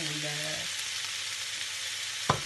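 Bell peppers, mushrooms and garlic sizzle steadily in a pan for a breakfast omelette, a close, even frying hiss with a brief voice at the start and a single clink near the end.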